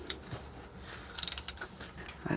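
A ratchet wrench loosens a half-inch bolt on a vehicle alternator during a DC/DC charger install, giving a quick, faint burst of ratcheting clicks with a few scattered knocks around it.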